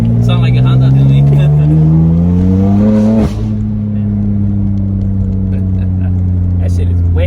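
A BMW F80 fitted with aftermarket intakes, charge pipes and a top-mounted intercooler revs loudly up close, its engine note climbing then dropping abruptly and settling into a steady drone, with people talking over it.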